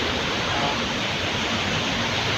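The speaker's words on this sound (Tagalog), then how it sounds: "Baha guys, baha." Floodwater rushes in heavy rain, a steady broadband roar that stays loud and unbroken throughout, close and dense like a torrent, with no voices heard.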